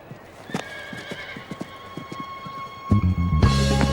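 Horses at a racecourse: a steady run of hooves clip-clopping up close, then loud neighing and whinnying near the end.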